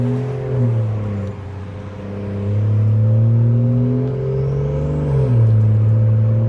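Exhaust burble from a BMW 540i with a B58 engine, stage 2 tune and exhaust valves closed, heard at night as a deep, steady rumbling drone that swells slightly during cruising and carries no speech.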